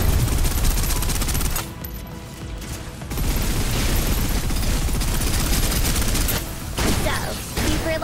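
Sustained suppressive gunfire from the video game Snowbreak roars almost without pause, a dense, loud barrage broken by a couple of brief lulls before resuming.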